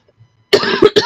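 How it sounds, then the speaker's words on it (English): A close, loud cough of two or three quick, harsh bursts after a moment of near silence. "Still have a little bit of a cough."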